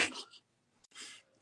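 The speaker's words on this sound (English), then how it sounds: "Excuse me, I'm about to sneeze." A single sharp sneeze up close, with a short breathy follow-through, then a pause and a brief exhale.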